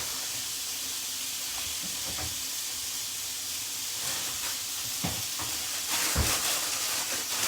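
Chicken cooking in a pan, a steady close hiss and sizzle with occasional sharper crackles and utensil taps, growing slightly louder toward the end, with no voices.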